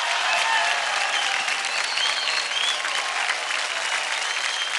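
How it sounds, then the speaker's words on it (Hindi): Steady, dense applause from a studio audience at a televised dance competition show, loud and sustained throughout with no pauses. "जोरदार ताली हो जाए प्रदीप और स्नेहा जी के लिए"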